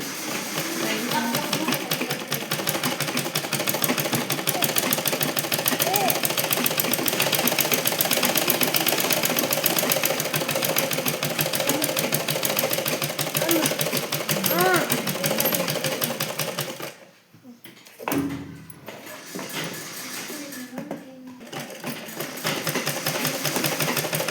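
A sewing machine stitching fabric runs in a steady fast mechanical whir for most of the stretch, stops briefly, then resumes more faintly; a voice talks over it.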